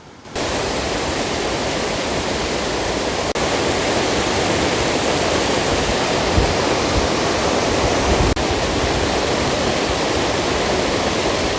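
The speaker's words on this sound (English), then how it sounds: "you can't beat the sound of rushing water on a waterfall out in the wilds and the wilderness" Rushing water from a waterfall in Aros Park near Tobermory on the Isle of Mull roars steadily and loudly, a dense unbroken wash close by that never lets up.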